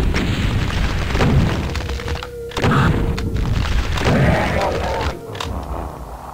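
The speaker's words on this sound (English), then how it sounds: "Take out a rocket launcher if you picked it up. Immediately start firing at this pillar." Rocket launcher explosions from the video game Doom II, loud booming blasts that follow one another closely and overlap into a continuous rumbling barrage with a few brief gaps.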